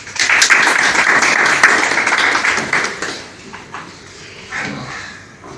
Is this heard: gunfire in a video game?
no